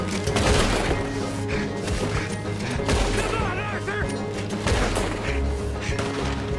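Gunfire in Red Dead Redemption 2, several loud sharp shots cracking over a dense, busy game mix with music and voices beneath.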